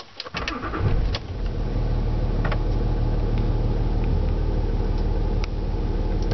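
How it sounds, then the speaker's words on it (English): A 2008 Range Rover Sport SE engine cranks and catches after a few clicks, then settles into a steady, close, even idle rumble with no voices over it. "so we'll apply the foot brake, power on the car."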